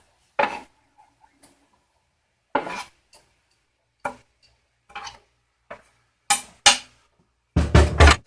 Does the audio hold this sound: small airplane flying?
no